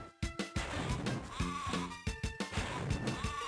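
Sheep bleat repeatedly in the video game Spyro Fusion. Short, loud bleats arrive in quick succession, mixed with thumps and knock-down hits.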